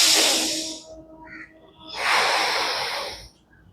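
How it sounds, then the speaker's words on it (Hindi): Deep alternate nostril breathing (anulom vilom) during a yoga session: a long airy inhale, a pause, then a second long, loud nasal exhale, close to the microphone with no talking. "जितनी लंबी सांस ले सकते हैं।"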